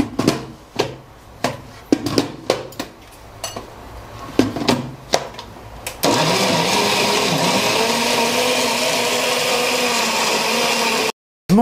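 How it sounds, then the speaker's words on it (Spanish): A few sharp clinks and knocks of kitchen utensils come first, then a blender roars steadily for about five seconds as it purees a thick sauce with evaporated milk, stopping abruptly near the end. "Vamos a ponerle un chorrito de leche evaporada y licuamos, que sea espesito para licuar"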